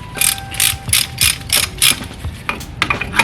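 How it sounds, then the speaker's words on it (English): A brake piston tool ratchets to push back a caliper piston on crusty old brakes, a series of about eight crisp, evenly spaced metallic clicks, close and clear, with no talking. "let me get the brake tool, the piston tool, so I can push this piston back"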